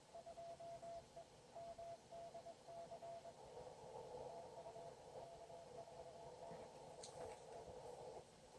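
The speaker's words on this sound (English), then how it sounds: "Morse code is the mother mode of amateur radio" Morse code sidetone from an amateur radio station at a Field Day event, a steady keyed tone pulsing in quick dots and dashes over a constant hiss of radio noise.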